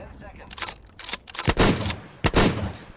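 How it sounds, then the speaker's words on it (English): Bursts of rapid video game gunfire crackle in quick succession, with loud shots clustered around the middle and end of the clip. "I hear gunshots."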